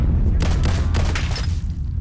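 Rapid gunfire in a modded zombie-survival session of Fallout 4, a dense burst of several close shots in quick succession over a low game rumble, with a voice briefly audible under the shooting.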